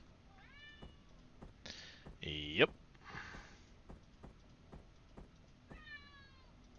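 A pet cat named Kiston meows several times, each cry rising and falling in pitch, heard clearly in a quiet room while someone talks briefly between the calls.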